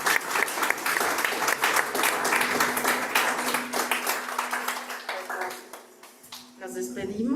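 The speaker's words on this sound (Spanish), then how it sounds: "Pues dale ese aplauso al Señor." A church congregation claps in sustained applause at an Easter service, dense and steady for several seconds before thinning out near the end, with voices and a held tone underneath.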